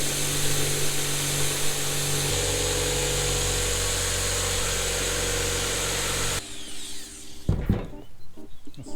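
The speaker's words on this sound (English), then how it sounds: "So we're going to cut this out, and then we'll mirror that cut at this height on all of these uprights." A power tool cuts through wooden uprights in a loud, steady drone for about six seconds, then stops abruptly, leaving a few scattered knocks and handling sounds.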